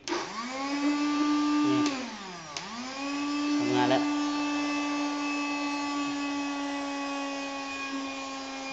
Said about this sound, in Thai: เครื่องดูดฝุ่นก็อยู่ตรงนี้